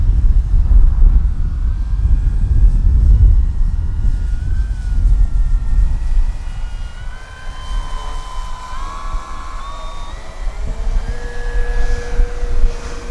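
An E-flite Carbon Z Cessna 150T RC model airplane's engine drones loudly at first, then its whine shifts in pitch as it passes low and fades slightly.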